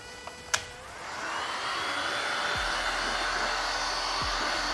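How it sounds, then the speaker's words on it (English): A heat gun runs steadily while warming vinyl wrap on a car for removal, its continuous blowing whir close and loud for several seconds after a couple of brief clicks at the start. "we're just heating, making sure there's movement on the heat gun"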